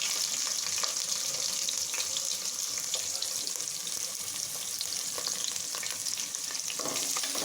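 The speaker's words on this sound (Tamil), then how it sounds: "போட்டு நல்லா வதக்கி விடலாங்க." Onions, green chilli and curry leaves sauté in a pan for soya biryani, giving a steady, close sizzle with scraping stirs throughout and no talk.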